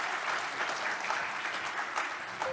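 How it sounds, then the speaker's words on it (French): A conference audience claps for panelists after a debate on digital agriculture, a short burst of steady, dense applause with no talk. "Je vous demande d'applaudir les panélistes"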